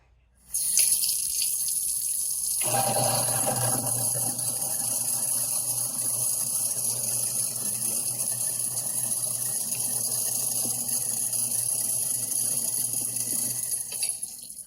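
A kitchen sink garbage disposal grinds up limes while the tap runs, a continuous harsh churning with rushing water that starts abruptly and carries on steadily.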